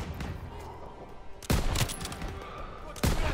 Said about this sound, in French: Tirs de suppression.